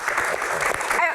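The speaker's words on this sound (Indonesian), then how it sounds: "Tepuk tangan dong." A studio audience claps at a panel show with rally drivers as guests, a brief burst of dense applause with a voice speaking over it.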